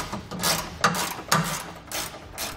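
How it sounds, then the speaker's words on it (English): A ratchet with a 17 mm socket loosens bolts while a hitch receiver is installed on a 2013 Toyota Tacoma. It makes several short, close clicking and grinding bursts in an irregular rhythm, with no talking. "our bolts are going to use a 17 millimeter socket"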